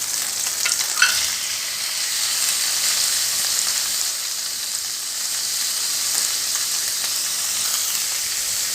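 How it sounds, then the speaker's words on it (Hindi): Chicken sizzles and fries steadily in melted butter for a white sauce pasta dish, a continuous crackling hiss with a brief stir or clatter near the start, close and fairly loud with no talk. "बटर को मेल्ट होने दें। साथ ही हम इसमें ऐड कर देंगे चिकन।"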